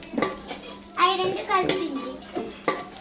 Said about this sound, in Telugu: మెంతులు వేయించాక జీలకర్ర పోసి వేస్తున్నా